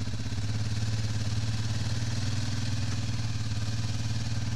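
A 4x4 ATV on an off-road scout tour runs with a steady, loud mid-pitched engine drone that holds evenly throughout, with no talking.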